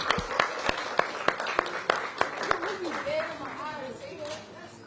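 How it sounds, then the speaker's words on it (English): Elementary school children at a career day clap in a scattered, uneven burst that fades after a couple of seconds into voices and chatter. "Give yourselves a big round of applause"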